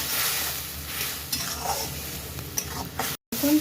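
Tomato puree with garlic and salt frying in hot oil in a pan, a steady soft sizzle with occasional stirring scrapes, heard up close with no talking.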